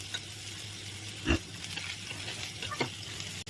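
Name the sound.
potatoes and pointed gourd frying in a pan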